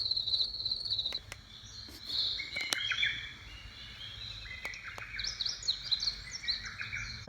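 A white noise machine plays a recorded nature track of crickets and birds: steady insect trilling with scattered chirps and a few sharp clicks, moderately quiet throughout.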